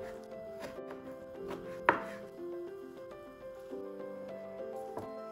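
A knife slices guanciale on a cutting board, making soft repeated cuts and one sharper knock against the board, heard close over faint background music.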